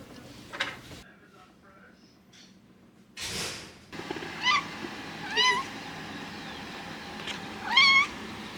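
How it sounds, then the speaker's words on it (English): Cats meowing in a home in the morning, several short rising meows spaced a second or so apart, fairly close, with a few quiet household clunks and a person speaking softly. "You ready to let the kitty cats in?"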